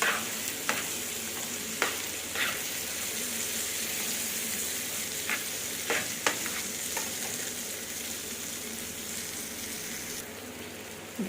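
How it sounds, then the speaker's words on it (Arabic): Alexandrian sausage frying in a pan with chopped tomato and eggs, a steady soft sizzle with occasional scrapes and stirring clicks, close and fairly quiet. "لو عندك طماطمايه قطعيها حتت صغيره وانزلي عليها بيض وسيبيهم يتشوحوا كويس مع بعض"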